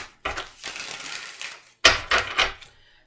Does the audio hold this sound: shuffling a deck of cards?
yes